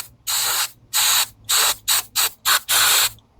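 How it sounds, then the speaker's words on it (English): Aerosol cleaner sprayed into a Tecumseh Snow King carburetor during a rebuild, seven sharp close hissing bursts of varying length separated by short pauses, loud and with no talking. "Let's give this a spray off a bit,"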